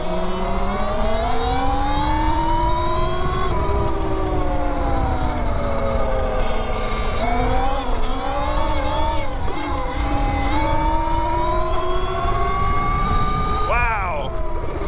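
E-Ride Pro SR electric motorbike accelerating in Race mode: a loud, steady rising motor whine with gliding tones that climb, dip and climb again as the throttle changes, under wind noise.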